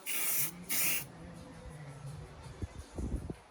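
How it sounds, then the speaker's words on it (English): Two short bursts of matte black aerosol spray paint onto a rusty petrol hedge trimmer, a loud hiss and a second one close behind, followed by faint low handling noises and soft knocks. "just spray the whole thing matte black"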